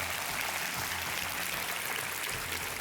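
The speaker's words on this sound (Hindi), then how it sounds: "आइए, आपको तालियों के साथ हम आपका अभिनंदन करते हैं।" A studio game-show audience applauds a contestant, a dense, continuous wash of clapping that stays loud and even from start to finish.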